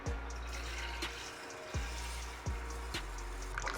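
Tap water runs steadily as hands are washed at a sink before cooking native palm oil rice, a continuous close splash broken by a few sharp knocks and clatters.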